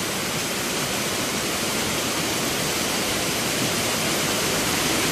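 A steady, powerful rush of falling water roars without a break at Gabur-Gabur Falls, like a waterfall heard up close.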